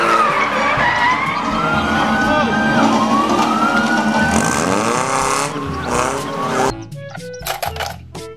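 A police car siren from a toy vehicle set, wailing loud and continuously with rising and falling sweeps and tire-skid-like noise. It fades out into short, choppy bursts near the end.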